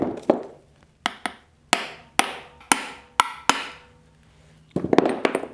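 Sharp metal hammer blows on a transmission part being straightened, about eight ringing strikes in an uneven rhythm with short pauses, close and loud, followed by a burst of scraping clatter.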